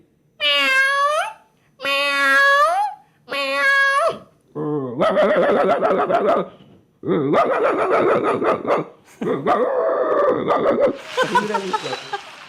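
A mimicry artist voices animals on stage, first three drawn-out cat-like meows, then a run of yapping, whining dog barks, all imitated by a human voice with short gaps between.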